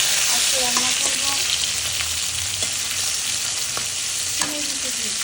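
Sour magur fish curry bubbling and simmering in a pan, a loud continuous frothy hiss with scattered pops and a few faint clinks, close and steady with no talk.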